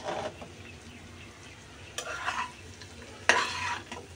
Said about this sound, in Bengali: এইভাবে ফোড়া ফোড়া করে আলুকে আর করলাকে ভাজি করলে কিন্তু অনেক টেস্ট হয়।